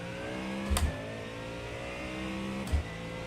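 A GT3 race car engine in the iRacing video game at Miami, held at a steady drone with two brief thumps or shifts, fairly quiet and with no talk.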